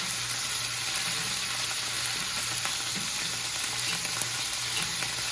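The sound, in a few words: beef stew meat searing in a pan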